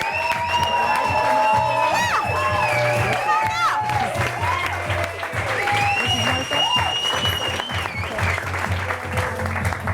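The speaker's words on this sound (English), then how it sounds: "Let's give a round of applause for Betty Thomas" Studio audience applauding and cheering for a film director's entrance on a talk show, steady loud clapping with whoops over music, lasting throughout.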